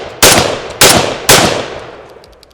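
Three loud, sharp blasts from a Derya DY12Y shotgun fired from the hip, spaced about half a second apart, each leaving a ringing tail that fades away after the last shot.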